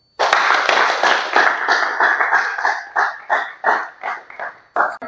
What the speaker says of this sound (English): A round of applause to Teresa.